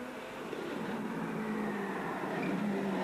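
Subaru rally car driving a rally stage in tricky conditions, engine droning steadily with a rising tone as it passes, heard from a distance with no voices.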